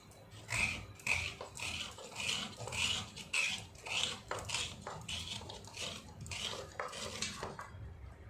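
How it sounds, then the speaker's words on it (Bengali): A whole coconut being grated by hand into fine shreds, heard as a steady rhythmic series of scraping strokes, close and fairly quiet, with no talking. "এইভাবে মিহি করে পুরো নারকেলটাকে কুড়িয়ে নিচ্ছি"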